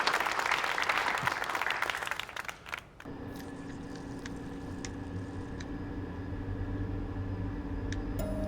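A crowd at a book-reader meeting applauds to welcome an up-and-coming author, with dense, steady clapping for about three seconds. It then cuts to a quiet indoor room tone with faint clicks.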